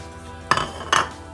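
A utensil clinks twice against a bowl while salmon burger mixture is stirred, two short bright knocks about half a second apart over a quiet background.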